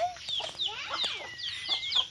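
A chicken clucks close by in a quick run of squawking, rising-and-falling calls that continue steadily for a couple of seconds, with no talk over them.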